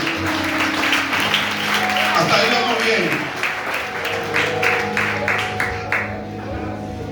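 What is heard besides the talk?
church congregation applause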